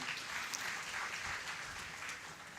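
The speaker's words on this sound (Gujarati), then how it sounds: "આ બંને સંતોને એકવાર જોરદાર તાળીના નાદે વધાવીએ" An audience at a religious gathering honouring two saints applauds in a steady, fairly distant wash of clapping that fades slightly toward the end, with no voices over it.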